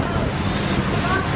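Heavy rain pours down in Podili as a dense, steady, close roar of broadband hiss, with a voice faintly present beneath it.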